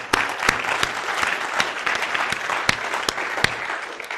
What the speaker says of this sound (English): let's give a round of applause for all the folks that make NolaCon possible.